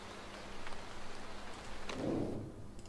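Rain falls during a race in the motorsport management video game Motorsport Manager, a soft, continuous hiss with a low rumble beneath it. The sound is faint and steady throughout.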